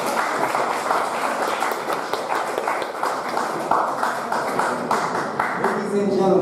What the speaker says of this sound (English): A warm round of applause, please.